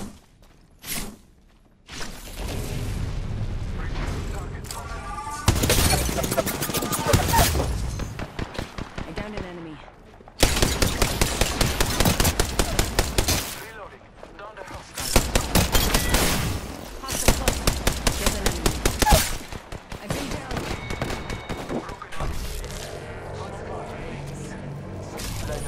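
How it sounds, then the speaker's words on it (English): Bursts of automatic gunfire from the battle-royale shooter Apex Legends, loud rapid volleys separated by short pauses, with a player's voice talking over parts of the fighting. "I am taking fire."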